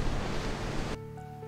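Sea waves breaking against a seawall on the Odessa shore, a dense, loud roar of surf for about a second that cuts off abruptly into quieter wind and ambient noise.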